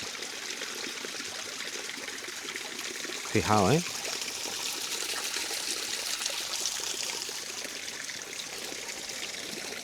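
Water trickles and streams steadily out of hillside ground along a village trail, a soft, continuous, moderately close babble, with someone briefly speaking over it.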